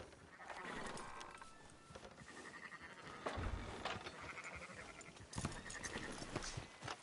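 Sheep in the Red Dead Redemption 2 video game bleat repeatedly at close range, wavering calls overlapping in irregular bursts over low rustling and a couple of dull thuds.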